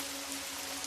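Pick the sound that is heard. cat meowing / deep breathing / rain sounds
rain sounds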